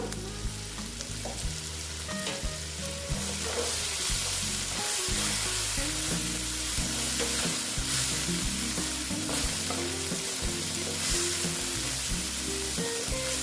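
Spices and Kashmiri red chilli powder sizzle and crackle steadily in hot oil, with occasional scraping of a spoon stirring the pan close up.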